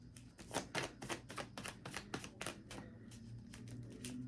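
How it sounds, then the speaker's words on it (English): Tarot cards being shuffled, a quick series of crisp riffling snaps and flicks in an uneven rhythm, close and fairly faint, with no voices. "I'm shuffling and the cards don't want to pop up"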